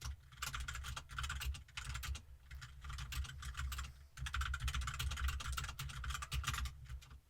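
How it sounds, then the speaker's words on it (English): Someone types notes on a computer keyboard in quick, continuous bursts of close, crisp key clicks, with brief pauses between runs and no talk. "hope you don't mind me typing out some notes"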